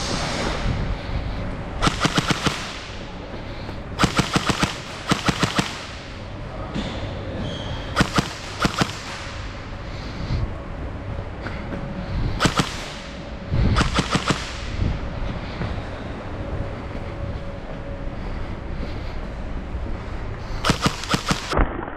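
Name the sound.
SLR CQB gel ball blaster by JingJi firing shots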